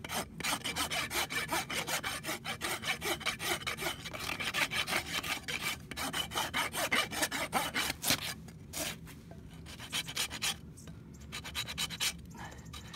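Rasp filing a splay-footed pony's hoof during a trim: a long run of quick, regular scraping strokes, close and steady, pausing briefly near the end, with no talking.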